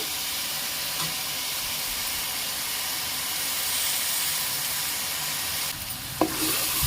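Ginger garlic paste fries in oil for a fish curry, giving a steady close sizzle and hiss throughout with no talk, and a brief clatter of a utensil near the end.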